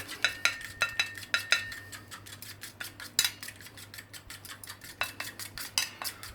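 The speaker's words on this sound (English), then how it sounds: "Take a fork and mix it up." A fork clinks and scrapes against a bowl while mixing hot and sweet coleslaw, making quick, light, irregular taps close by with no talking.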